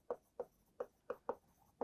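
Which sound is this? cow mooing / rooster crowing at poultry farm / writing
writing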